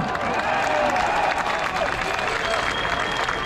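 A crowd at an outdoor anti-Macron rally on Place de Fontenoy in Paris claps and cheers in a continuous wash of applause, loud and even for the whole stretch.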